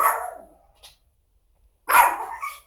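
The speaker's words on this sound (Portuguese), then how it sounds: "Tem um cachorro latindo" Dog barking at a distance in two short bouts, a sharp bark with a faint yip, then a louder double bark after a silent pause.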